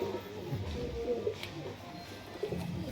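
A breeding pair of Punjabi Malbai pigeons coo softly in repeated low, throaty pulses, close by over a steady hum of background noise.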